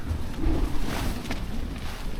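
Wind gusting against a four-season tent pitched outdoors, a steady broadband rush with low rumbling buffets on the microphone, swelling slightly through the short stretch with no talking.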